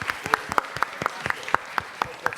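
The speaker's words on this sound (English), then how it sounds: "Quick round of applause for Carrie Fisher" Audience applause for Carrie Fisher at a Star Wars press conference, a short burst of distinct, evenly spaced hand claps that sound sparse and close.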